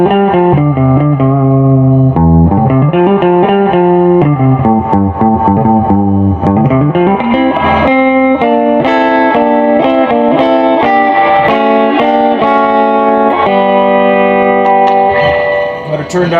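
Electric guitar chords and melodic runs played through a Carvin MTS3200 amp with reverb set around 5, noticeable reverb, loud and continuous with a full, sustained tone.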